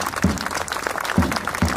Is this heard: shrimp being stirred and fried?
no